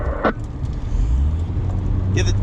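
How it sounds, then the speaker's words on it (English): Cars idling close by in a traffic jam on the San Bernardino Pass, a steady low engine rumble that holds throughout with faint brief chirps on top. "A bit of a traffic jam."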